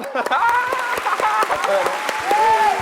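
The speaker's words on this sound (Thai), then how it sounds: "ขอเสียงปรบมือกับครูมอริสเคด้วยนะครับ" Studio audience clapping on a Thai children's TV variety show, a dense patter of many hands with a host's voice and a tonal musical line riding over it.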